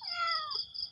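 A stray cat gives a single drawn-out meow close by, loud and clear, rising and then sliding down before trailing off, with no talk.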